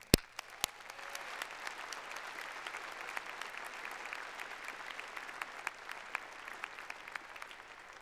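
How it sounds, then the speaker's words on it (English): Sustained applause from a high school graduation audience in a large hall, a dense even patter of many hands at moderate distance, opening with a couple of sharp nearby claps. "Let's have a round of applause for all of us."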